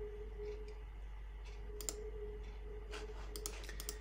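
A few faint, crisp clicks of a computer mouse, one isolated and then a quick cluster, sit over a steady low electrical hum in a quiet room.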